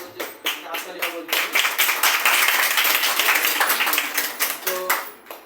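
Applause from an audience at a student felicitation ceremony, with scattered claps building into sustained clapping, then breaking back into a few separate claps before fading.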